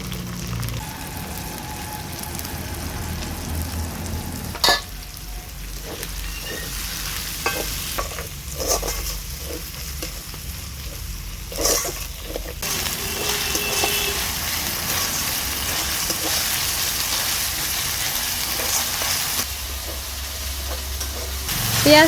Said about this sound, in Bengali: এবার এই তেলেই আমি দিয়ে দেব গোটা জিরে, এবার এতে আমি দিয়ে দেবো পেঁয়াজ কুচি,